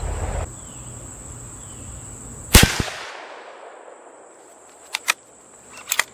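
A Ruger American rifle in 7mm-08 fires Norma Whitetail ammunition outdoors: one loud, sharp close shot with a decaying echo, followed later by a few fainter distant cracks against a steady insect-like buzz.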